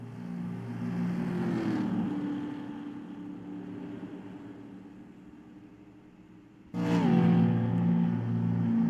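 Stock cars race at Dover in NASCAR Racing 2003, a loud steady engine drone that fades as the car moves away, then snaps back loud with a rising pitch near the end.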